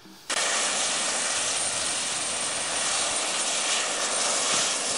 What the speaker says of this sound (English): Just keep turning that jet engine noise down, can you?